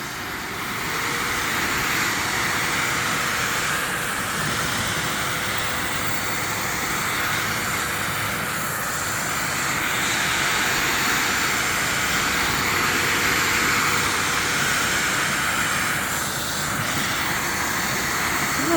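EGO 56-volt cordless wet/dry shop vacuum, 9-gallon WDV0900-series model, running on its turbo setting: a steady, loud, close broadband roar of motor and airflow that holds continuously throughout with slight swells and no speech.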